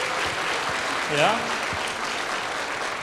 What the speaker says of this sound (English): how about a round of applause for Pearl Restaurant that catered the food?